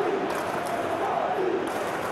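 Stadium crowd in a football simulation video game cheering as a steady, moderately distant roar that swells and fades in a few waves over about two seconds.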